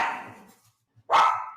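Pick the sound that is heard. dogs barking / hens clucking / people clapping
dogs barking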